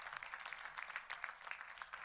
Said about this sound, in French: On peut applaudir Christophe et son équipe pour cette organisation